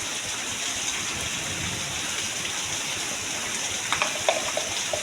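Heavy rain pours steadily over a farm, a dense, even hiss of falling water that stays constant throughout, with a few sharper drips and splashes near the end and no voices.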